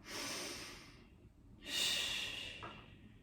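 Deep, audible breaths during a full-body Pilates ball workout: a long, airy exhale, a brief pause, then another strong breath, close and clear with no talking.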